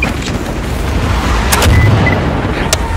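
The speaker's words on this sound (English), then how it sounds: "More explosions!" Dense, continuous rumbling blasts with heavy low-end booms and sharp cracks, like explosions in Star Wars Battlefront 2 layered over constant roaring noise.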